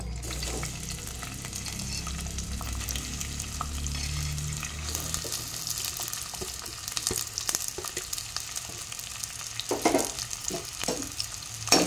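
Chopped onions frying in oil in a pressure cooker for a boneless mutton curry give a steady, close sizzle with occasional stirring scrapes and a low burner rumble early on; no one speaks.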